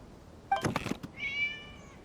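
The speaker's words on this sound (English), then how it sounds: "It was just a cat." A cat in the video game Genshin Impact gives a short meow followed by a higher, drawn-out mewing cry, faint against a quiet background.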